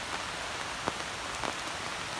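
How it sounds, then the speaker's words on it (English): Rain falls steadily on an outdoor campfire, a soft continuous patter with a few brief, sharper drips and hisses standing out, heard close and fairly quiet with no voices. "The rain puts it out, the rain puts it out."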